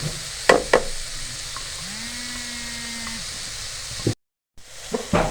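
Mixed vegetables with capsicum fry in a pan for kababs, a steady close sizzle broken by a few clattering stirs, a brief gap, and more stirring at the end.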